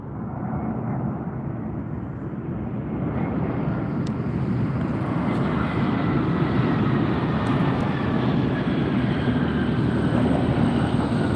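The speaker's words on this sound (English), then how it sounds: "Looks like another Spirit flight." A Spirit Airlines jet arriving at Las Vegas airport produces a steady, broad engine roar that swells gradually and holds loud throughout, heard from outdoors with some wind noise.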